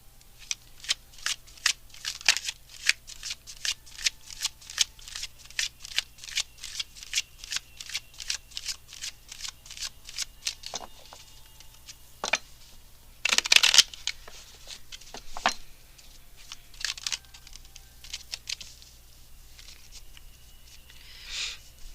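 Tarot cards being shuffled and pulled: a long, quick run of papery flicks and riffles, close and fairly quiet, then a few louder snaps and sparse taps as cards are drawn and laid down.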